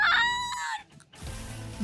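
A bird creature in Cassette Beasts gives a loud, close rooster-like crow with a bright harmonic call that breaks off. A brief gap and softer rustling follow.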